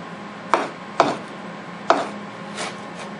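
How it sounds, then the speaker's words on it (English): A Benchmade 375 Adamas knife makes quick chopping cuts through 550 paracord, giving three sharp, close thuds in under two seconds and then a softer fourth strike, each one brief and percussive with no talking. "I'll do some quick chopping cuts in this stuff."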